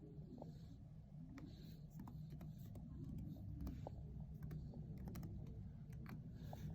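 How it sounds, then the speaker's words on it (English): A password is typed on a Chromebook keyboard, quick irregular key clicks, close and soft, over a low rumbling background hum. "let's just go up so you can't see what I'm typing"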